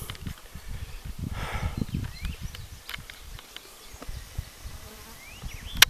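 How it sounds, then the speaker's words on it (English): Bees buzz intermittently as they fly past in a garden field, their drone rising and fading, over rustling and low wind-like rumbles outdoors. "The bees are all over that thing."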